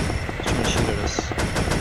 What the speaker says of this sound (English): He's trying to shoot at us.